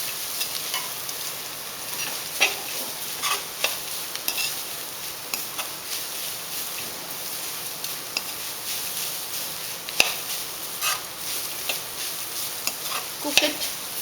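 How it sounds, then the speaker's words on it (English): Coconut rice with grated carrot is stirred in a hot pan, a soft continuous sizzle broken by irregular spoon scrapes and light clinks against the metal. "mix it thoroughly."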